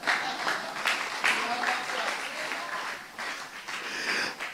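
A church congregation claps during a sermon, fairly loud, uneven applause swelling and dipping in waves over several seconds, with voices mixed in.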